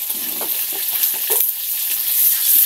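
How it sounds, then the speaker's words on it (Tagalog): Pork in a pan beginning to fry, a steady soft hiss with light crackling and a few small pops, close and moderately loud, with no talking. "Nag-uumpisa na siyang ma-fry."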